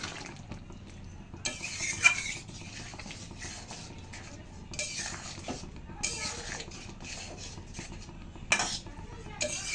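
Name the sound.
mixing fried soybean in a pan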